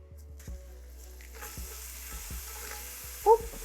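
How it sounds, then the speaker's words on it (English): A tablespoon of garlic hitting a hot pan for honey garlic sauce gives a soft, steady sizzle with a few light clinks of a utensil stirring, close and fairly quiet, no voices. "So I have a tablespoon of garlic here. We're going to add that in."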